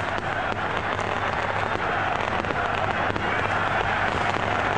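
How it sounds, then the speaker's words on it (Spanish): Fireworks going off in the stadium stands at Pacaembu, a dense, continuous crackling roar like heavy rain, loud and unbroken, blended with crowd noise. "Fuegos artificiales en las tribunas de Pacaembu."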